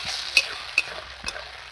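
Chili chicken being stirred in a pan after a mixed slurry is added: a soft sizzle with three quick spoon scrapes, close and brief.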